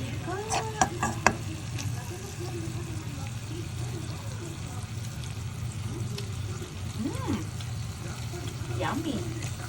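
Eggplant with ground meat frying in a lot of oil, a steady sizzle running throughout with occasional stirring clatter and a voice talking over it.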